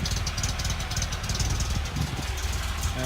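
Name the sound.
car engine idling roughly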